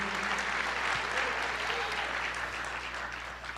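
A church congregation claps continuously in a dense, even wash of applause at a worship service, sustained from start to finish with faint voices mixed underneath.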